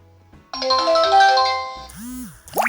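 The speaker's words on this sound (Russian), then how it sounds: "И камера звонит нам в наше мобильное приложение" An Anbiux V5 home WiFi camera calls out to its mobile app with a ringtone, a bright melodic run of electronic tones followed by short rising chirps, loud and close with no speech.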